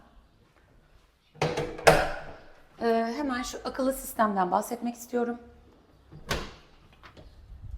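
The front entrance door of a house in Didim shuts with a couple of solid knocks and thuds early on, followed by someone talking close by and another dull knock near the end.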